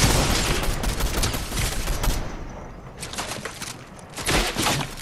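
Gunfire from another squad in Fortnite, dense bursts of automatic shots rattling loudly, easing briefly near the middle and then flaring again, with no voices over it.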